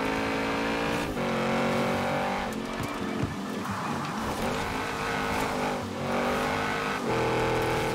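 Audi RS7 racing in Forza Horizon 4: a loud, sustained engine roar revving hard, with pitch drops at gear changes near the start and end and a rougher, rasping patch in the middle.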